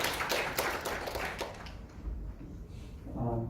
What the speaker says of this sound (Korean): 우리 김현재 대표를 박수로